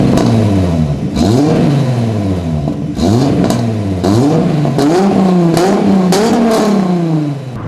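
A Volkswagen Golf VR6 engine is revved hard several times in a row, each sharp rising blip falling back in steady pulses, loud and close with no voices.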